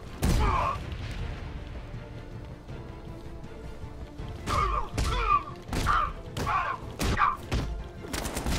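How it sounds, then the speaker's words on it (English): Shotgun blasts from the Batman Arkham Knight video game sound as sharp, booming hits, one early and then a quick cluster of five or six, over a constant game background rumble. "Shotguns are not nice."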